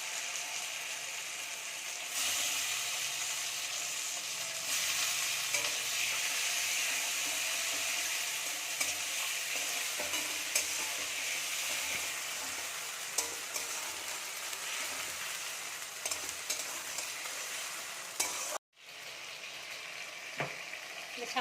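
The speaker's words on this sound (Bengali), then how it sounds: "আদাটা ভাজা হয়ে গেলে এই কুচিয়ে রাখা টমেটোগুলো দিয়ে দেবো" Chopped tomatoes frying with ginger paste and curry leaves for crushed aloo dum with kumri give a steady, even sizzle that runs continuously, with a brief break near the end before the frying resumes.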